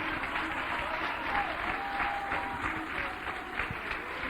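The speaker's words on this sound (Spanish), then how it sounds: "Apláudelo con ganas." A church congregation applauds for Christ during an evangelical service, a steady, sustained wash of many hands clapping at moderate distance, filling the whole stretch without letting up.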